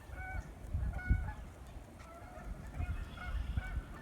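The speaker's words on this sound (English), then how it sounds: "I hear some geese." Two geese honking outdoors over a small flooded pasture just after rain, repeated nasal calls at a moderate distance in short bursts over a low background rumble, with no talking.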